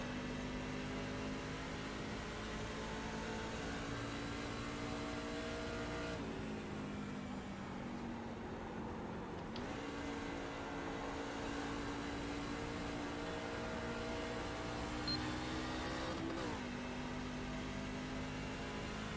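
A NASCAR race car engine at Gateway in a racing video game drones at steady high revs, with gear shifts that dip and climb the pitch. It stays loud and continuous, with no talking over it.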